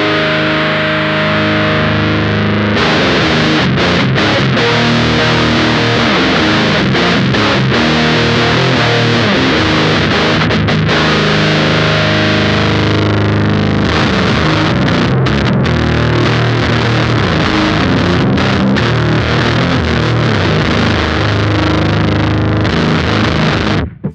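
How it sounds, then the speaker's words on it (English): Heavily distorted, bass-heavy playing through a Lichtlaerm Audio Altar with its EQ bass control turned up, a loud, dense, continuous stretch of chugging notes and chords lasting about twenty-four seconds with no talking. "You can hear that we can get a lot of bass out of this EQ section."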